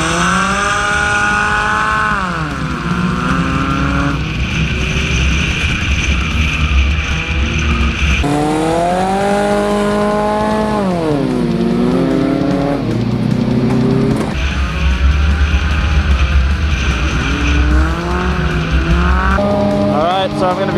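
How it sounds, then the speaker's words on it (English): Race cars roaring around a figure-eight track in a 20-lap race, engines rising and falling in pitch through the gears with tire squeal as they run side by side through the turns, loud and continuous, with announcer-style talk over it. "We go green, 20 laps of figure eight racing. Side by side through turns number one and two."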